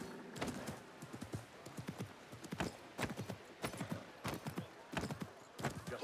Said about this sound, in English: Why is this horse so slow?